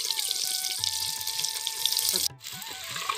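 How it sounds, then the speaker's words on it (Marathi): Eggs frying in hot oil with turmeric and red chili powder over a wood-fired chulha, a steady close hiss and sizzle running throughout, dipping briefly near the end before resuming. "आपण अंडे तळून घेऊ थोडेसे"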